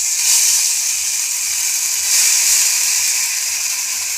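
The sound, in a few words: spiced filling poured into hot pan, sizzling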